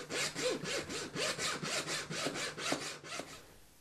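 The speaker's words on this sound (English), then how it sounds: "cut them down with a normal hacksaw" A hacksaw cuts through an air conditioner duct pipe in quick, regular back-and-forth strokes, about a dozen rasping passes close up, then stops.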